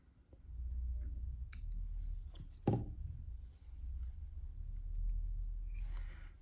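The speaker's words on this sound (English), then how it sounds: "Pull back the fibres and trim up the hackle." Scissors trim the hackle fibres on a Grizzly Duster dry fly with a couple of sharp, close snips over a quiet, low background hum.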